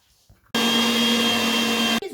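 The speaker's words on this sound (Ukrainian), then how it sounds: "Я буду використовувати сьогодні м'ясорубку." A meat grinder mincing liver for pâté runs in one loud, steady motor whine for about a second and a half, then cuts off abruptly.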